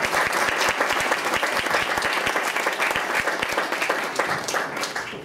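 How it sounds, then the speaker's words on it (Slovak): Audience applause at an awards evaluation event in Zvolen, Slovakia: dense, steady clapping from a sizable indoor crowd, loud and sustained throughout with no talk over it. "Ešte asi jeden potlesk"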